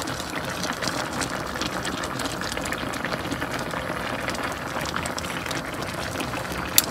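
Watermelon rinds simmer in sugar syrup on the stove, being boiled down into candied peel, giving a steady, dense bubbling hiss with no pauses and a small clack near the end.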